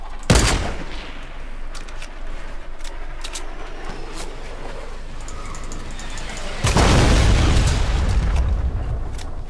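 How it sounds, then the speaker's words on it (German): A guided missile strikes in a Fortnite match with a sharp, loud blast at the start, then a rumbling stretch and a second heavy, sustained explosion near the end, up close and dominating. "Die schießen mit einer Lenkrakete auf uns."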